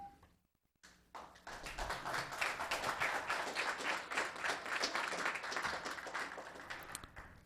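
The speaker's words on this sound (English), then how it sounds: "if you could hold your applause till the end of the public hearing" Applause at a Los Gatos town council public hearing, a room of people clapping steadily for several seconds after a brief quiet gap, fairly close and even, fading slightly toward the end.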